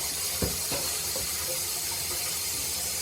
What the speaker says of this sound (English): Can we run the laundry faucet?